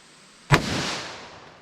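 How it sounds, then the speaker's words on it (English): A single sharp, loud gunshot from a revolver fired single action with Buffalo Bore ammunition, at a .40 S&W versus .44 Magnum ballistic test, with a booming report that decays over a second. "I'm going to fire my first shot single action just to kind of get an idea of what kind of recoil we're working with"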